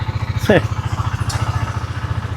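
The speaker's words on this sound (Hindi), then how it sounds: "बड़े टाइम बाद अपनी बाइक स्टार्ट हुई है" A motorcycle that was started after sitting unused a long time idles with a steady, pulsing low-pitched thump, close and loud, while a person speaks briefly over it.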